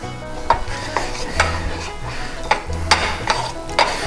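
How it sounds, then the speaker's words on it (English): Ghee warming and being stirred around a small Swiss Diamond crepe pan for an omelet, with soft scraping and a light sizzle broken by several distinct utensil taps against the pan, close and moderately loud. "Start moving it around because we want to get this little Swiss Diamond crepe pan all loosened up here"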